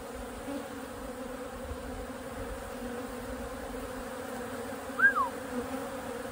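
Honey bees humming steadily around an open hive, a soft continuous buzz with one louder bee passing close by near the end.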